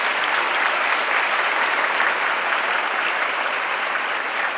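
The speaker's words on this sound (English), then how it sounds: "A big round of applause to all the students." Audience at a Navaratri evening celebration at Sathya Sai Grama giving students a big round of applause, a dense, even roar of clapping held at constant strength for the whole stretch.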